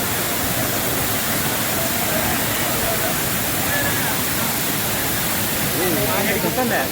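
Strong flowing water at Anayadikuthu waterfall in Idukki roars as a dense, loud, steady broadband rush that fills the whole clip without a break.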